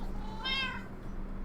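A single short meow from a cat in Minecraft, a bright, clear mew rising and falling over about half a second, heard alone over a faint steady background hum.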